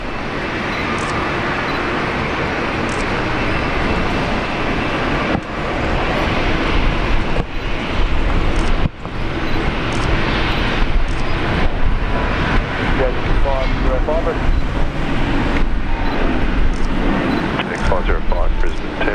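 A Jetstar airliner takes off from Brisbane Airport, its broad engine roar holding steady and loud throughout and rising slightly after the first few seconds, with voices talking over it.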